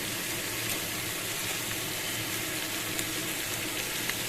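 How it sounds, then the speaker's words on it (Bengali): Food being stirred in a frying pan in a home kitchen, a steady close sizzle with faint scraping and no voices. "এই দেখো, এভাবে নাড়াচাড়া করে নিচ্ছি অল্প একটু"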